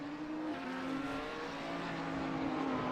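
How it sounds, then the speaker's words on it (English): A BMW GT3 race car at Misano in a racing game, its engine holding a steady, strained tone as it slides through turns, with a faint squeal of tires beneath and no talk. "That BMW was sliding through those turns, but gained a ton of ground."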